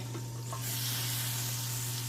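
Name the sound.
steak frying in a pan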